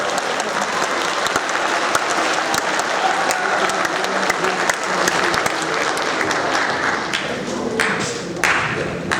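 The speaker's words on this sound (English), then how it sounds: "All right, let's give them another round of applause." Sustained round of applause for 8th grade award winners in a school hall, a loud dense crowd of clapping with a few sharp nearby claps standing out, fading a little near the end.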